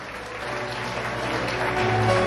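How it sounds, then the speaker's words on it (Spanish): Loud applause from party guests at a quinceañera celebration, a dense steady wash of clapping that swells slightly over two seconds, with music tones faintly underneath. "también la acompañamos con el aplauso fuerte de todos ustedes."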